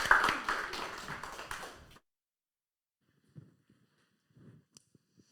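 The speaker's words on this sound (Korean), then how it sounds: "이제 함께 영광 박수 올리겠습니다." A church congregation bursts into dense, loud applause at a summer retreat lecture. The clapping lasts about two seconds, then cuts off abruptly, leaving near silence with a few faint, scattered small sounds.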